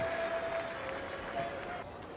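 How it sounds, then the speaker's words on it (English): A cricket crowd at an Australia versus South Africa Test match gives a sustained, distant Bronx cheer, a broad wash of jeering noise and scattered applause that rolls on steadily without a break. "Bronx cheer there for Farney as he makes a stop"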